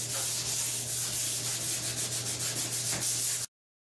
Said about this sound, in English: we're going to go over the whole surface with 220 grit sandpaper just to kind of scuff it up